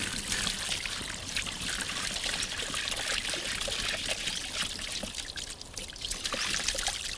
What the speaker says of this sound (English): simply just pour water over it